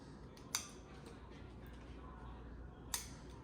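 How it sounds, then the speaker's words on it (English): Scissors snip butcher's twine in a home kitchen, two sharp, quiet cuts spaced a couple of seconds apart over a low steady background hum. "I'm gonna cut up the string"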